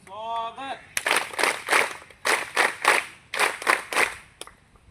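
An audience at a women's self-help group event claps in several short bursts of applause separated by brief pauses, with a voice heard just before the clapping begins.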